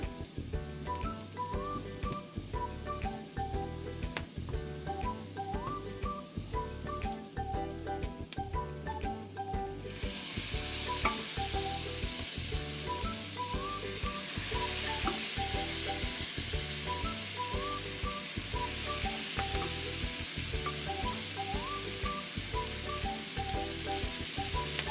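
Ingredients for a sizzling seafood dish sautéing in a pan until brown, with a steady close sizzle and crackle that swells louder partway through, under a rhythmic music track.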